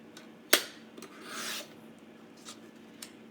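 A paper trimmer cuts a 12-inch scrapbook sheet at 3 inches, a sharp click followed by a brief scraping slide of the blade and a few light taps, close and quiet with no talking.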